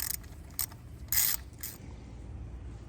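A hose clamp is tightened on an oil catch can hose in a Hyundai Kona N, giving a few short, faint metallic ratcheting clicks close by in a quiet setting; no speech.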